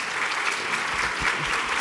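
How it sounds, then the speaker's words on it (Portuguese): Steady audience applause at a panel event on politics, dense continuous clapping from a seated crowd, close and even throughout with no break. "Eu queria pedir um aplauso para ela"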